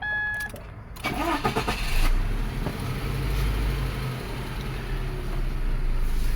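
Close by, a 2013 Subaru Impreza engine cranks and catches, then settles into a steady, smooth idle with a low continuous hum.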